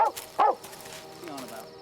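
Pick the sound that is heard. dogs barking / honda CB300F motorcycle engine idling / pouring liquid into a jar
dogs barking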